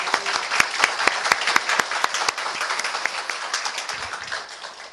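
Applause from a church congregation giving thanks to God at a New Year service, dense steady clapping from many hands with sharp individual claps standing out, close and continuous throughout.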